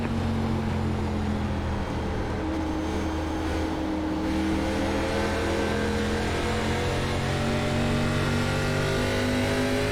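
An ARCA race car in the iRacing video game at WWT Raceway at Gateway gives a loud, sustained engine drone with steady harmonic tones that shift slightly in pitch, running continuously without talk.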